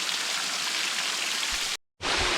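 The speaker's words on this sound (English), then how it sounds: "So we have to go into the actual waterfall." Broadband rushing hiss of the Kritou Tera waterfall in Cyprus, loud and steady from close by, cut off by a brief dropout before resuming.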